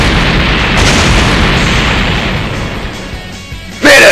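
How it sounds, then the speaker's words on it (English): A big explosion in a Megaman video game fan dub: loud, roaring, broadband blast noise fills the clip and slowly decays, then a sharp new sound cuts in right at the end. "Man, that explosion was so cool"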